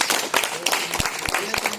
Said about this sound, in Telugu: ఒక్కసారి గట్టిగా మీరు చప్పట్లు కొట్టండి